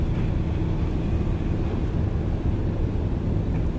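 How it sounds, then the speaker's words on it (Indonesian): Strong wind at the Bakauheni ferry port: a loud, steady roaring rush that buffets the microphone continuously throughout, with no speech. "Cuacanya begini ya teman-teman ya, anginnya kencang nih."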